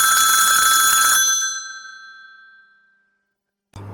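A single bright electronic phone ring for a live call-in broadcast sounds loud and alone, its tone decaying into silence over a couple of seconds before a brief low-pitched click cuts in at the end.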